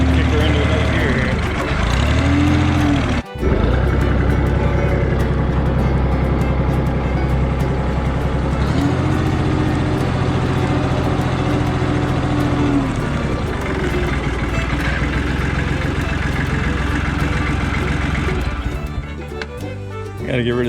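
An old Chevy truck engine labors and revs while pulling a heavy load, loud and close, with rising and falling pitch through gear changes as someone talks over it.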